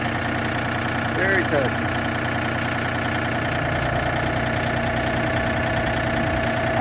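A John Deere tractor engine idles with a steady, close diesel rumble and a faint knock, while a person speaks briefly over it.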